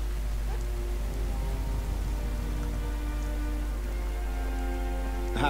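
Steady rain falls in the fantasy game Skyrim, an even patter with a constant low rumble under it and a few faint tonal game sounds, no voices.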